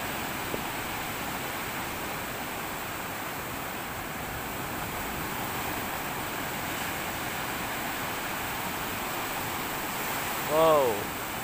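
Large ocean waves break and wash up on a shore, heard as a steady, broad roar of surf filling the whole stretch, with a brief voice near the end.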